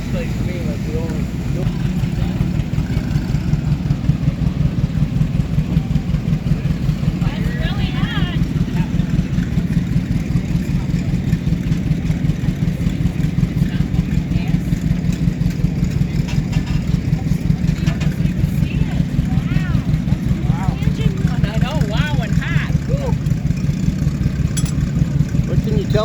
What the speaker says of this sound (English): And it's a half scale of a 65 horse steam engine.